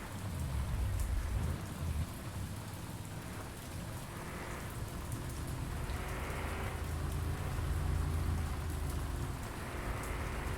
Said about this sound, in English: You want rain? The rain's good, right?